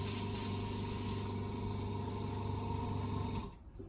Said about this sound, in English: We'll do a test spray.